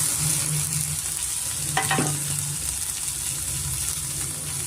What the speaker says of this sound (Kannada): ಸ್ವಲ್ಪ ಫ್ರೈ ಆದ ತಕ್ಷಣ ನಾವು ಉಳಿದ ತರಕಾರಿಗಳೆಲ್ಲ ಸೇರಿಸ್ಕೊಂಬಿಡೋಣ